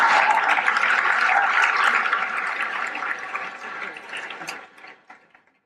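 Audience applause at a talk, a dense wash of many hands clapping that holds steady for about four seconds, then thins and fades out to near silence.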